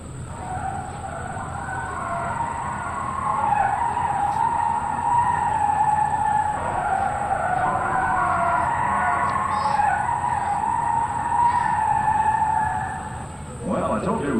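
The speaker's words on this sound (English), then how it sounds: "listen and watch as Ron Spence performs the perfect two-wheel touchdown" An aerobatic airplane from the Split Image Team touches down on two wheels at an air show: a loud, sustained roar with a screeching tone and tire-like squeal, running for over ten seconds, with a crowd and an announcer's voice mixed in.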